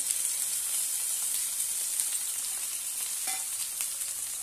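Halved tomatoes cooking in a hot pan give a continuous, even hiss and sizzle, close and fairly loud, with a faint clink partway through.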